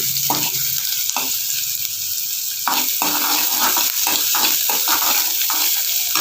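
Brinjal curry ingredients fry steadily in a pan, a continuous close sizzle broken by repeated scraping stirs, with no talking.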